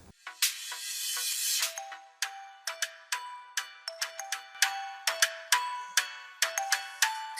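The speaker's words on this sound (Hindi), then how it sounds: "इसका फोन आ गया।" A mobile phone ringtone plays alone as a quiet, bright chiming melody of repeated short tones, ringing steadily without any voices.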